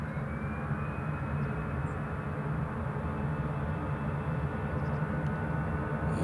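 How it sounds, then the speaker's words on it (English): An EasyJet Airbus A319 airliner approaches Newcastle International Airport, a faint, steady, broadband jet roar that holds at a distance for several seconds without a clear peak. "here comes the EasyJet A319. You'll hear it before you can see it"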